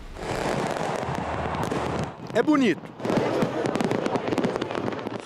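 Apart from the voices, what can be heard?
fireworks and firecrackers exploding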